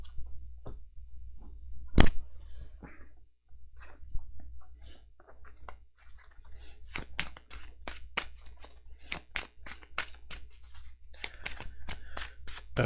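A deck of game cards is shuffled for a tabletop campaign, giving a series of quick crisp riffling snaps and clicks, close and fairly quiet, accelerating into a dense flurry toward the end.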